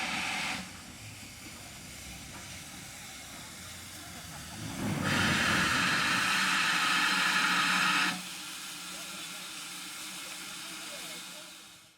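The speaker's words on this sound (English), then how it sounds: "my first go at capturing a steam rail tour passing by" The steam locomotive Clun Castle passes on a rail tour, a steady hiss and rumble that swells into a louder rushing burst for a few seconds before fading back; faint voices underneath.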